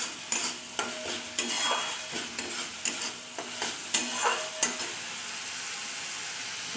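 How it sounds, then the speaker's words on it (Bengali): Tomato mixture stirred and fried in a kadai, a continuous close sizzle broken by regular scraping strokes of a spatula against the metal pan, about a dozen stirs, with no speech. "ততক্ষণ আমি এটা কড়াইতে নেড়ে চেড়ে ভালো করে ভেজে নেব"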